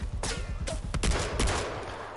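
Gunfire in Far Cry 4 on PS4: a rapid string of loud, close shots crackling in uneven bursts over about two seconds, with no talking.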